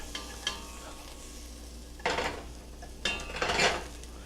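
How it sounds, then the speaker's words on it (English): Onions caramelizing in a pan for beef tips, a low background sizzle broken by a few loud bursts of spatula stirring and scraping against the pan. "But now the release of this onion that's caramelizing."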